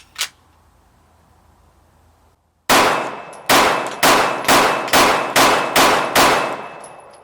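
A Hi-Point C9 pistol with its factory 8-round magazine fires at an outdoor range, eight loud, sharp shots in a fairly steady rhythm, each ringing out briefly, after a single faint click.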